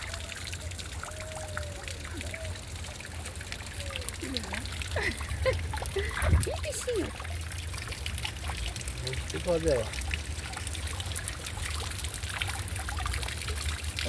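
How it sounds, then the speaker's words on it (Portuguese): A small waterfall of clear, crystalline water trickles and pours steadily nearby while people chat quietly over it. "Eu tinha que fazer uma quedinha de água assim também lá em casa"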